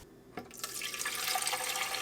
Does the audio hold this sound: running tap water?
yes